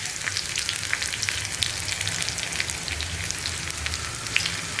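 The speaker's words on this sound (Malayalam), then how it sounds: "ഇനി ഉള്ളിയുടെ കളറൊന്ന് മാറി വരുന്നത് വരെ ഒന്ന് വഴറ്റി കൊടുക്കുക" Onions sautéing in a pan for cucumber pachadi, a dense, even sizzle and crackle that runs steadily throughout, close and moderately loud, with no voices.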